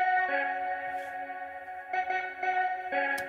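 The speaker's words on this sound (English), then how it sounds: "And I've got this synth playing the same." A synth in Logic Pro X plays a short melodic phrase matching a vocal line, bright harmonic notes held in sustained bursts with a slight effected, echoing tone, clear and close with no speech.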